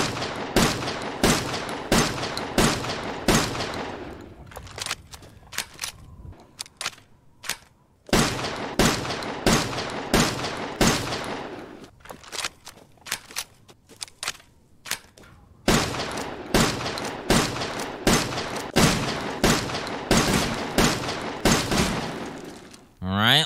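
SIG-12 shotgun in Resident Evil Village, fitted with red dot sight, long barrel and drum magazine, fires loud rapid repeated blasts in long rhythmic runs, with brief pauses between strings.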